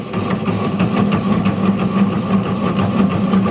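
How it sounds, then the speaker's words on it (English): A wood lathe turning a walnut hollow form at about 150 rpm gives a steady, close motor hum with a low drone, and light rhythmic ticks come from the spinning piece. No one speaks. "We'll slow the lathe down here to about 150."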